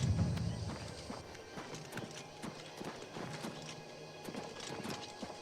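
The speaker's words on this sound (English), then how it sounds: "Leave this horse alone." Hooves clip-clop in steady walking rhythm with an occasional neigh from a horse in the game Oblivion, close and moderately loud over faint ambient game sound and mechanical noises.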